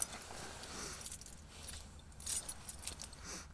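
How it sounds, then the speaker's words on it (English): Keys jangling close by in bursts of bright metallic clinks over a few seconds, the loudest rattle about two-thirds of the way through, with no talk. "Find my keys so we can get out of here."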